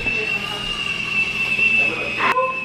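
A thin, steady high-pitched whistle, like a kettle, sounds continuously for a few seconds, then a brief clatter breaks in near the end.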